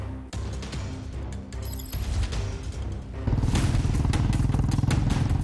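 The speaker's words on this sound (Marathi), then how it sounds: "राहुल गांधींनी तेजस्वी यादव यांच्यासोबत यावेळी बाईक रॅली काढली." Motorcycles revving and rumbling in a bike rally during a Bihar voter-rights march, a dense, continuous engine drone with clatter that swells louder and steadier about midway through, no talk over it.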